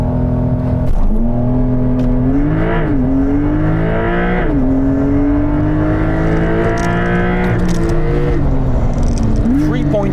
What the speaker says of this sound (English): place your bets while I activate the launch control